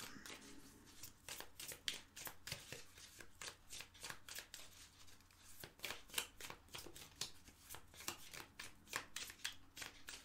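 Tarot cards shuffled steadily for a reading, a dense run of crisp riffling flicks and soft slaps repeating for about ten seconds, close and clear with no talking.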